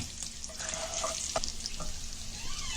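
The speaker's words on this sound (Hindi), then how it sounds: "अभी इसमें भूनेंगे ये मसाले" Ground masala roasts in a pan, making a soft, steady sizzle with occasional stirring scrapes and light clinks, fairly quiet and close.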